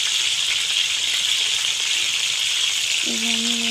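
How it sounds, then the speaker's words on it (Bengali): Chicken pieces marinated in yogurt and salt fry lightly in a pan, giving a steady broadband sizzle throughout, with a brief tonal clink or whine near the end. "এটা এখন ভেজে নেব, হালকা করে ভেজে নেব, বেশি কড়া ভাজা যাবে না।"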